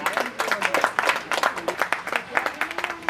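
Applause for a prize winner at a Kudumbashree women's day celebration, many hands clapping in a steady, fairly loud patter throughout, with no speech.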